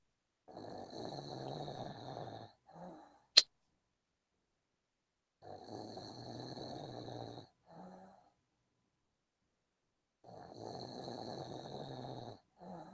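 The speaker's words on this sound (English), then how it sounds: "you're just gonna fall asleep and snore" A person snores while asleep, three long rasping snore breaths spaced several seconds apart, each followed by a short snort, with one sharp click between them and quiet gaps.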